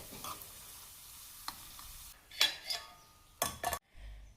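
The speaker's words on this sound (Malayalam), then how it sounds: "നല്ല ചൂടായി കിടക്കുന്ന എണ്ണയിലേക്ക് ഇതുപോലെ 2-3 കൊണ്ടാട്ടം മുളകും കൂടെ വറുത്താൽ" Hot oil sizzles steadily while sun-dried kondattam chillies are fried and stirred, with a few sharp clinks of a utensil against the pan and a louder crackling burst near the end.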